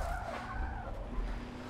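Tires squeal and skid steadily as a car drifts in tandem in Forza Motorsport 7, played on a Logitech G920 wheel, with engine roar underneath throughout and no voices.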